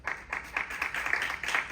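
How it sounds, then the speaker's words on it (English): A small audience claps for a student presenter at an international sports forum, a patter of applause with soft pulsing bursts, moderately near and fairly quiet, with no voices over it. "Please give a big round of applause to students Ho Young-jin."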